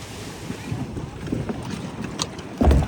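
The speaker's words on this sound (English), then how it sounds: "That was quite the speedboat." A speedboat arrives at Koh Lipe island in Thailand, its engine rumbling under heavy wind buffeting on the microphone, with a louder thump of water or hull near the end.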